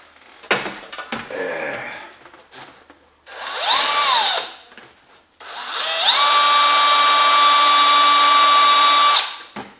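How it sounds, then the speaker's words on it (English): A power drill whirs in two bursts, its motor whine rising in pitch as it spins up, then holding steady for several seconds before stopping. "I'm going to drill a hole in the side of this"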